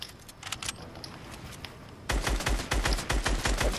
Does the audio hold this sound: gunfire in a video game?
yes